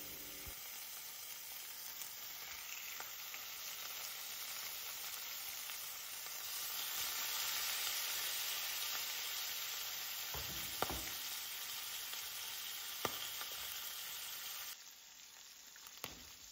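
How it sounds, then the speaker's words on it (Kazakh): Sturgeon steaks fry in a little oil in a pan over low heat, giving a loud, dense, continuous sizzle up close, with a couple of faint taps and a softer patch near the end; no voices. "Табаға сұйық май аздап құямыз. Балықтарды салып 10 минуттан екі жағын жай отта пісіреміз."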